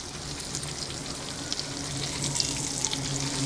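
Fish pieces frying in a pan sizzle steadily up close, with bright crackling spatters popping through a continuous hiss, and no voices.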